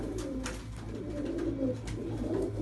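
Pigeons coo nearby in a loft, soft repeated throaty calls layered over a low steady hum, with no talk.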